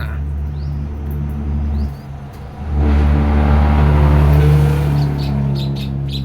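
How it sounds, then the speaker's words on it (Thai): A loud car rumbles close by with a low engine drone that swells into a heavier pass midway, while faint bird chirps sound over it from a nearby bathing myna. "รถมันดังมากโอ้โห"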